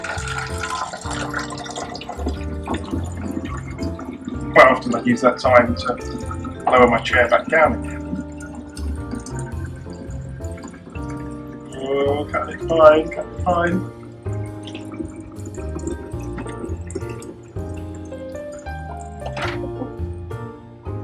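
A Virgin Pure water machine dispenses water into a container in a steady trickling fill, with a faint mains hum underneath while a person talks nearby.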